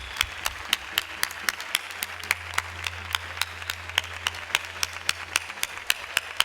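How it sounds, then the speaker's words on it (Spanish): An audience at a Gorka 2019 awards ceremony gives applause: steady, evenly spaced hand claps that continue throughout at moderate loudness, with a low hum underneath. "por supuesto un aplauso para Muy Verdad."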